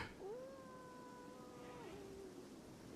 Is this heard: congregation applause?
no